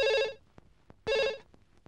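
Telephone ringing in a Telugu movie scene, heard as two loud, close electronic ring bursts about a second apart with brief quiet gaps between them, and no talk over it.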